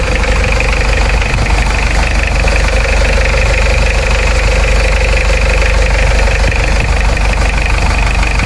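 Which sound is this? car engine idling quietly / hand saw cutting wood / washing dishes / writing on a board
car engine idling quietly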